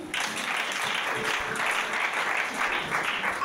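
A church congregation applauds in steady, sustained clapping that fills the room at full volume, with a faint voice briefly audible underneath.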